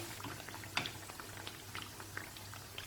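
Wheat pathir pheni pastries deep-frying in oil, giving a quiet, steady bubbling with occasional soft pops, faint and close with no talking.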